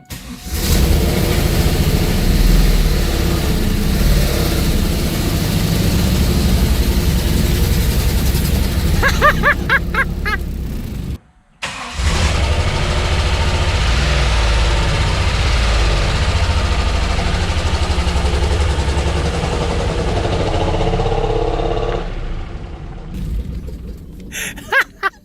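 A highly custom 4.3-liter LS1-based V6 car engine idles loud and close with a steady low rumble, briefly cutting out for a moment before catching again and running on, then fading toward the end.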